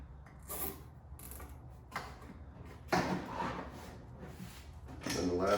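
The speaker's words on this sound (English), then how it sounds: "go ahead and take your zip ties, run them through your corners" Zip ties ratchet through the corners of a non-penetrating rooftop mount for a Helium antenna, giving a few short clicking zips with brief bursts of handling noise, fairly close and unaccompanied by speech.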